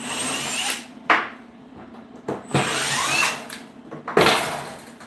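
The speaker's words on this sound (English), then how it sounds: "So I have to take it off and give it a wee grind." Grinding a corner of a stainless steel part, probably with an angle grinder: broadband whirring bursts that start and stop several times, with noisy gaps between passes, fairly close.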